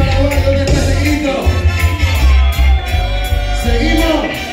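Live rock concert crowd at Absoluto Rock, shouting and cheering steadily and loudly over heavy low-end music throughout, with no clear break.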